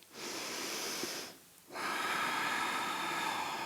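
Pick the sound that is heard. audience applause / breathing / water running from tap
breathing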